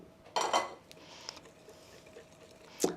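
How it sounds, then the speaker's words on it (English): A whisk stirs flour into cake batter in a bowl, giving a few faint, scattered metallic clinks and scrapes against a quiet background. "Sift it over the top of the batter, whisk it in."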